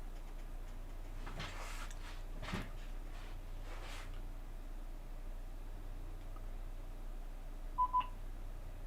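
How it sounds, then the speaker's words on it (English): Two quick, faint electronic beeps in close succession near the end from a Nakamichi NK12 sound bar pairing over Bluetooth, after a stretch of quiet background hiss and a few soft rustles. "So it beeps with the Bluetooth."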